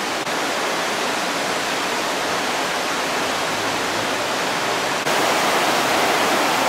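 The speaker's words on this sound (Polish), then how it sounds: "Jesteśmy przy wodospadzie Latefoss koło Oddy." Latefossen waterfall near Odda, Norway, roars as a dense, continuous wash of falling water heard up close, growing slightly louder near the end, with no voices.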